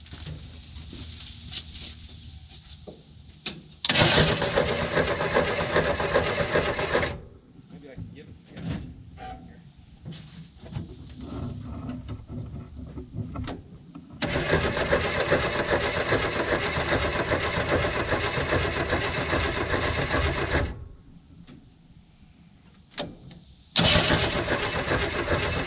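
A 1967 Chevy Nova field find that sat for 30 years cranks over in three long, loud grinding bursts. Quieter pauses between them carry someone talking.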